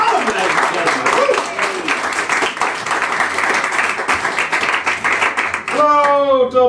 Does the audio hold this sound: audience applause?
yes